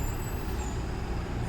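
A bus pulls in to park on a street in Rome, a steady low engine rumble with a faint hiss of air brakes over surrounding traffic noise, close by and continuous.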